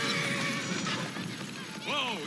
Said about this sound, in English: Whoa, easy. Who's a good horse? You are.